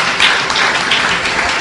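Audience applause at a Telugu sermon or religious gathering, a steady wash of many hands clapping at once, close and fairly loud, filling the whole short stretch without pauses.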